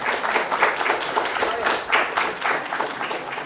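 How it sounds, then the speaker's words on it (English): A crowd claps steadily for a few seconds at a workshop, a dense even patter of many hands at moderate volume. "We round of applause"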